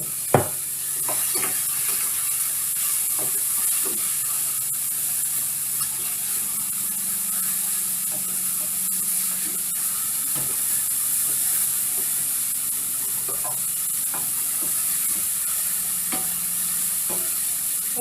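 Sweet peppers sweating in a hot pan on the stove for black bean patties, a steady hissing sizzle heard close, with scattered light taps and pops from stirring throughout.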